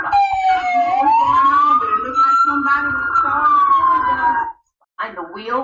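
Police car sirens wail during a 13-mile chase of a bus in Baton Rouge: one loud, continuous sweeping siren rises and falls steadily, cuts out briefly near the end, then resumes.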